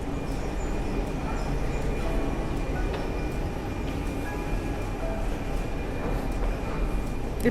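A train rumbles steadily at an underground platform, a continuous dense roar with faint metallic squeals and clatter, no voices.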